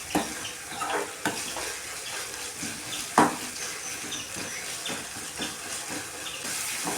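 Onion and tomato sautéing in a pan for an ivy gourd dish, with steady sizzle and repeated scraping stirs, one sharper clatter midway, no talking.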